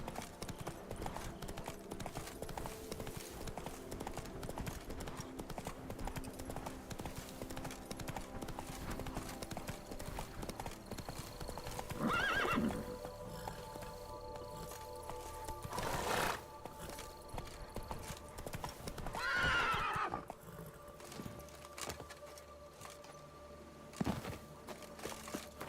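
Horse hooves clip-clopping steadily in The Witcher 3 video game, with two distinct neighs partway through, over a busy game soundscape.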